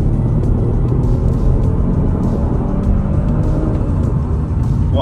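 A 2019 Kia Stinger GT accelerates hard, its engine a loud steady rumble with road and wind noise filling the cabin, no talk over it.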